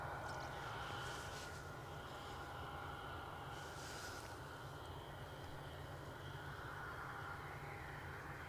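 An EasyJet airliner at Edinburgh Airport on a Sunday morning produces a steady, distant jet engine roar that holds evenly throughout with no voices.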